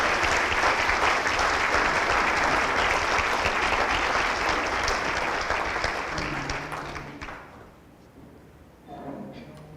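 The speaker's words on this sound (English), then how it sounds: "Let's give a round of applause for the organizations who have talked about this now." Sustained clapping from an audience fills most of the clip, then thins out and fades, with a voice briefly starting up at the end.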